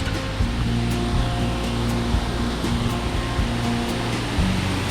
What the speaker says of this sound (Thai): เสียงดังจังจะได้ยินไหม นี่น้ำตก